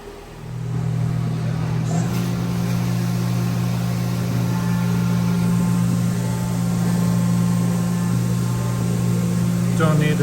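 A bronze shift fork for a Ford Focus RS/ST is machined on its final pass with coolant running, a loud steady low hum from the machine with faint hissing and whirring layered on top throughout.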